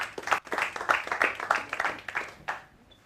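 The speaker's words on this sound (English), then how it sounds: "Please, let's clap for them" Clapping from a start-up accelerator audience welcomes a technology company, a few pairs of hands in quick uneven bursts that fade out in the last half second.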